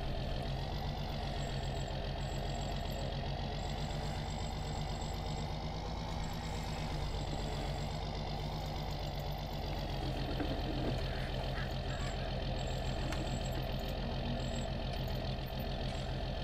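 A tractor engine in the farming game Farming Simulator runs steadily and close, a constant mid-pitched drone with a knocking rumble and no speech.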